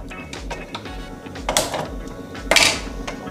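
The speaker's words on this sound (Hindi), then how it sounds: "इसके ऊपर हमने कुकर रख दिया है और अब हम इसको कुकर का ढक्कन लगा देंगे" A pressure cooker is set on a gas stove and its lid fitted while cooking Punjabi-style rajma masala, giving a few clanking metallic knocks and scrapes over a steady background hiss.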